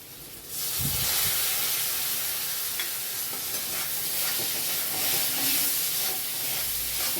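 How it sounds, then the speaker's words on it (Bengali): Ginger and green chili paste dropped into hot oil in a pan, a sudden loud hiss that becomes a steady close sizzle with light stirring scrapes underneath. "এবার দিচ্ছি আদা কাঁচা লঙ্কার পেস্ট।"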